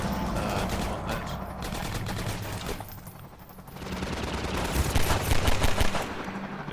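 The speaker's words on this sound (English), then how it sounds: "Is that thing shooting at us?" Gunfire in Half-Life 2 in the streets of City 17, with dense bursts and rapid volleys that keep going, then swell louder near the end under steady game ambience.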